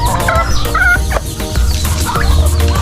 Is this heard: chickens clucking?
yes